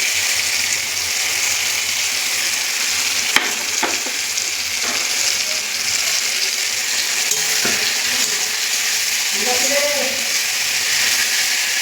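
Ground spice paste sizzling and frying in a pan with curry leaves, slit green chillies and chopped tomato for a crab curry, a steady loud hiss with occasional stirring scrapes and clinks, no speech.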